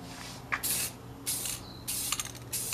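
An aerosol can sprays gloss finish onto a rifle stock in four short, even hissing bursts, each about half a second long and separated by brief pauses, close and fairly loud.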